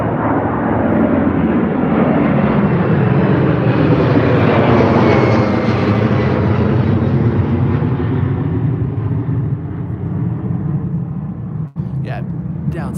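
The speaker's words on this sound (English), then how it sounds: "Another one taking off here now. It's like Delta, they're 767." A Delta Boeing 767 takes off at Heathrow. Its jet roar swells to a peak midway and then slowly fades, loud and continuous, with a voice talking faintly near the end.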